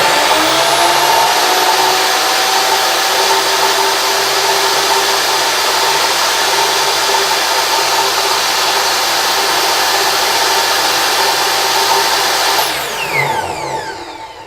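A Craftsman miter saw runs continuously at full speed, a loud, steady high whine of motor and blade, then spins down abruptly near the end as the brake engages.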